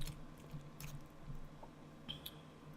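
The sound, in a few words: chewing crab stuffed black tiger shrimp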